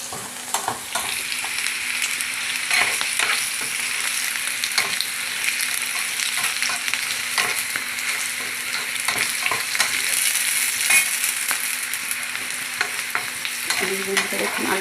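Potatoes sizzle steadily in hot oil in a saucepan, with a utensil scraping and stirring at irregular intervals and a low hum underneath, no voices present.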